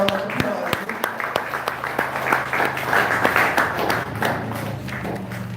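Applause from an audience at a school ceremony for children with special needs, dense clapping with some louder individual claps standing out, continuous and fairly close, with a low hum underneath.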